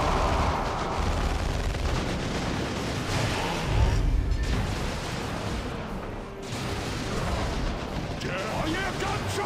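Gunfire and artillery-like blasts from the video game Dawn of War 2 rumble continuously through a dense battle mix, heavy low booms under crackling shots, with game voices talking over the fighting.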